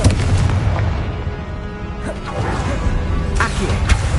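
Repeated Confringo blasting spells go off in Hogwarts Legacy, a steady heavy rumble of explosions punctuated by several sharp cracks and bangs, loud and with no voice over it.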